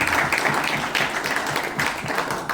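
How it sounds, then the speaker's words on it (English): An audience at the Bangalore Blasters team launch applauds steadily, a dense wash of clapping that runs loud and unbroken throughout. "I think you all can clap for yourself"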